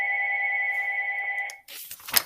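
A telephone rings with a steady electronic trill, loud and close, for about a second and a half before cutting off, leaving a few soft rustling and handling noises.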